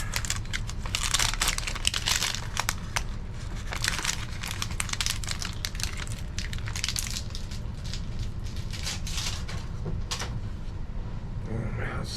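Crinkling, cracking clicks and scraping as a snapped-in keyboard is pried loose from a MacBook Pro being scrapped for recycling, a dense run of close, sharp transients over a steady low hum, with no voices.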